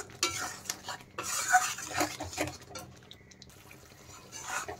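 Spice paste of cashews, raisins, melon seeds, poppy seeds and curd being stirred and fried in a pan for katla fish kalia: a soft sizzle under close, uneven scraping and clinking of a spoon against metal, with no voices.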